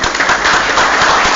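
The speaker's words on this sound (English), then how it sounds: "let's give them a round of applause." Dense, loud applause from a crowd honoring Fair Housing board members during a city council meeting, a steady wash of many hands clapping at once with no gaps.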